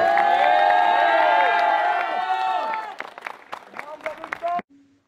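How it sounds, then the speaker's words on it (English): A school assembly audience cheering and clapping, with many overlapping children's voices shouting and whooping loudly at first, then thinning into scattered claps and calls before cutting off. "Come on, clap."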